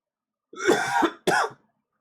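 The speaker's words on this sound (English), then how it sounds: "That's the first time I've coughed." A person coughs while smoking a joint: two hoarse, close coughs, a longer one followed by a short second burst, with silence around them.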